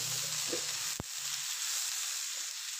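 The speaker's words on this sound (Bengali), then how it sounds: "কাঁচামরিচটাও সাথে ভাজা হয়ে যাবে।" Green chilies frying in a curry, a steady loud hiss of oil sizzling with a brief utensil knock partway through, no voices.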